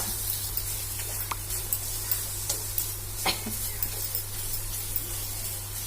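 A dry, crumbly urad flour masala mixture fries in a pan with a steady hiss and sizzle. Small scrapes and taps from stirring come regularly over a constant low hum, and no one speaks.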